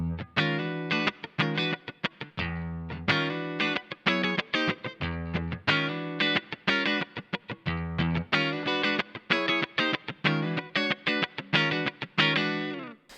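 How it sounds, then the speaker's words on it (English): An electric guitar, a YJM Strat on its neck pickup, plays through a Kemper profile of a Fender Vibroverb amp with light drive, sounding a loud, busy run of picked notes and chords that carries steadily for about thirteen seconds with no talking. "It sounds like this. I'm playing a YJM Strat on the neck pickup."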